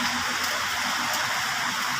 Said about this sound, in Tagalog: padayon gyapon ang ulan